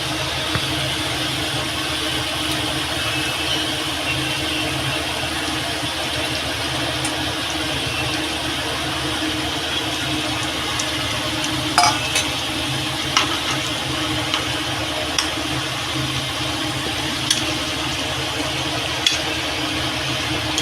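Fish frying in a pan for a Bengali curry, a steady, even sizzling hiss that runs unbroken throughout, with a few faint pops and ticks now and then and no talking.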